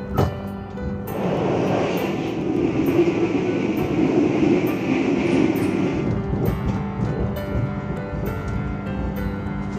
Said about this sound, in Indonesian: KA Bogowonto kembali diberangkatkan dari Stasiun Kroya, Kabupaten Cilacap jam 3:31.